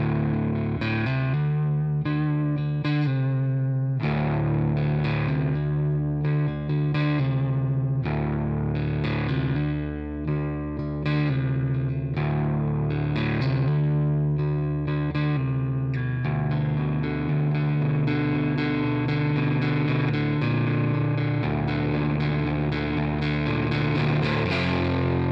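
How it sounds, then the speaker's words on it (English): A Fender Mexican Telecaster on the neck pickup, tuned to drop D with the gain cranked, churns out thick, driving distorted riffs with chugging low notes and ringing chords, loud and continuous. "that was the neck pickup, which is great for sort of bluesy driving riffs"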